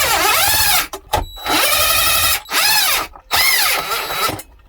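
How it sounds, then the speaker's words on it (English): A power drill or driver whines loudly up and down in pitch in three long bursts with brief pauses between them, backing out the four bolts that hold an old TV mount to the back of a TV in a camper. "I'm gonna take my old mount off the TV. Just has 4 bolts in the back."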